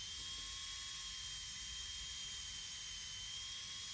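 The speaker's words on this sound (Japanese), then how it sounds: "割と回転数高めで、熱が入るようにね、ゆっくり動かしてます" A rotary tool spinning a stainless steel bit at fairly high speed to burnish leather edges gives a steady, loud, high-pitched whine that holds unbroken throughout, with no talk over it.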